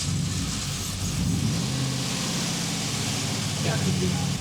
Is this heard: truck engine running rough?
yes